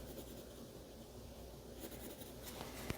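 A pencil sketches cherries and a leaf on paper, a quiet close-up scratching that sounds in short, uneven strokes with a few sharper taps near the end.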